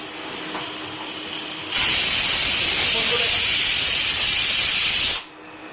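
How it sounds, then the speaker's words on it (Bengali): Pressure cooker on a gas stove, cooking a chickpea and cucumber curry, lets out a loud, steady hissing whistle of escaping steam for about three and a half seconds, starting and stopping abruptly against quieter kitchen background. "তো দুটো সিটি হয়ে গেল গ্যাস অফ করে দিলাম"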